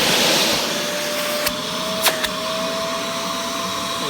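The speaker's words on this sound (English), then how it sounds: "I wanted to give him a demo of what kind of suction the hose has now" A green Fantom Wildcat vacuum cleaner runs with its hose drawing suction, producing a loud, steady close-up roar with a few brief clicks partway through.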